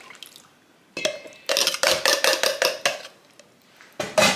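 Fork clinking and scraping against a dish while mixing wet ingredients into dry batter by hand, a run of quick close taps and scrapes, a pause, then a final burst, with no talk.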